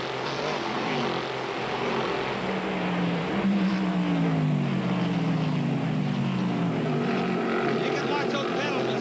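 An IROC race car at Watkins Glen roars at full throttle, its engine pitch sweeping up and down in a continuous loud drone, with commentary voices talking over it.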